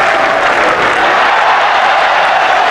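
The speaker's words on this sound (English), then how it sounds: "And still the crowd yelling 4" A big cricket crowd at a 1981 Ashes Test match cheers and yells in a steady, loud roar with no clear breaks, a continuous wash of many voices at a distance.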